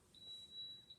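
A kitchen timer for homemade Greek yogurt gives a single faint, steady high-pitched electronic beep lasting just under a second over quiet background hiss.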